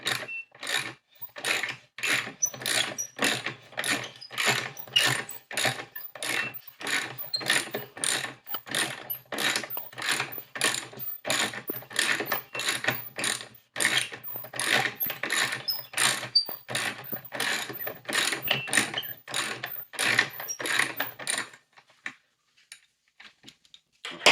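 Wrench ratcheting a screw into a SurRon electric dirt bike foot peg: a long run of close, rapid, evenly spaced clicks that stops abruptly near the end, no talk.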